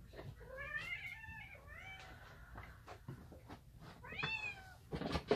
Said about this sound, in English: I got a cat getting into pies